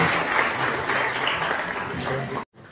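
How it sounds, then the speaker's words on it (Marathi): Loud, sustained applause from a school annual function audience welcoming the guests, a dense wash of clapping lasting more than two seconds before stopping abruptly. "एकदा जोरदार टाळ्या वाजवून आपण पाहुण्यांचं स्वागत करूया."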